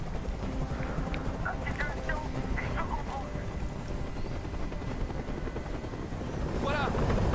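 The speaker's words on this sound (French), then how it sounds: "Fais dégager cet hélicoptère, maintenant." A video game helicopter's steady rotor drone, in Detroit: Become Human, fills the scene at constant loudness, with faint voices and brief chirps scattered over it.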